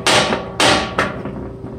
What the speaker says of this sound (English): And you get a chattery sound. Hear that? I'm just barely tapping.